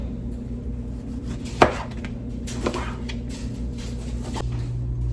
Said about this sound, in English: I'm also going to slice up some oranges as a little side.